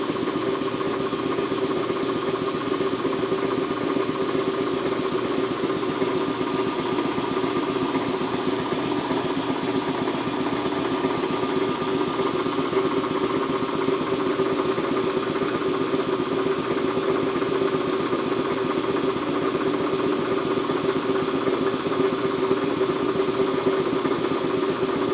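A Kellogg American air compressor runs at a steady, moderate level, giving a continuous mechanical hum and drone with a faint rattle. It holds unchanged throughout, and no voices sound over it.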